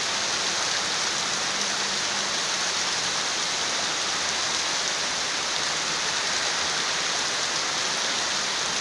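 Steady, even rain falls in a dense hiss, close and continuous without pauses or voices.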